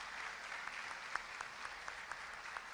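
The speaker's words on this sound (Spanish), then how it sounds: "un aplauso para ustedes." Audience applause at an academic talk, a steady wash of many hands clapping at a moderate distance with a few sharper individual claps standing out.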